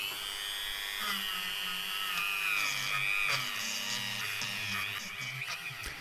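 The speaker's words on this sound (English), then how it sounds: "my first job's going to be use the Dremel and a wire brush" Dremel rotary tool spinning a stainless steel wire brush to clean the surface of a Peugeot 106 1.1 TU cylinder head, a close high-pitched whine that rises and dips as it presses on the metal, with no talking.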